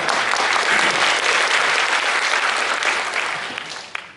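Audience applause at a creative-economy lecture in Chiang Mai, a dense sustained clapping crowd that holds strong for several seconds before tapering off near the end.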